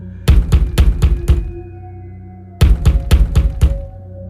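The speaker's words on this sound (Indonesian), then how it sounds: "Tiba-tiba terdengar suara ketukan sangat keras di pintu depan." Loud, heavy knocking on a front door comes in two bursts of five rapid thuds each, separated by a short pause, with a faint background hum between them.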